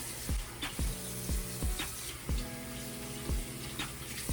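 Tap water running while rinsing homemade conditioner out of a beard, a steady close stream broken by repeated rhythmic splashes and thumps as hands work the water through, with a faint background hum.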